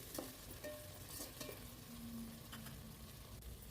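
Peas and tomatoes frying in a pan give a steady, low sizzle, broken by a few scraping stirs and clinks of a utensil against the pan, with no one talking.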